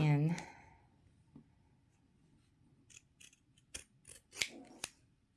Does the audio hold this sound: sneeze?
no